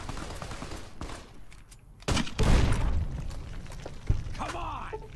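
Grenade rifle fire in Fallout: New Vegas, heavy booming blasts with bursts of gunfire-like cracks, the loudest hits arriving midway and near the end over a busy game background.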